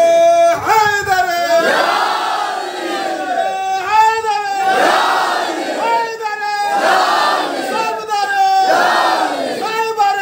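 A crowd at a Shia majlis in Bamondanga, West Bengal, chanting the slogan Naara-e-Haidari in loud repeated call-and-response bursts, several swelling shouted waves in steady rhythm, close and forceful.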